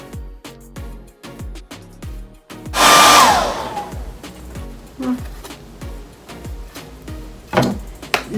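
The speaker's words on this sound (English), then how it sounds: "Use my blow dryer to dry this." A hair blow dryer drying craft paint on a Dollar Tree farmhouse DIY piece, switching on with a loud close whoosh amid repeated tapping and handling clatter.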